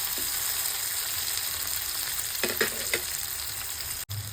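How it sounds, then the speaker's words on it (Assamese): Tomatoes fry in a pan over a low gas flame for a jackfruit curry, giving a steady close sizzle with a few short stirring scrapes near the end. "এয়া দেখিছে অকণমান সময় গেছৰ ফ্লেমটো মই কমাই অকণমান সময় এনেকৈ ভাজিম।"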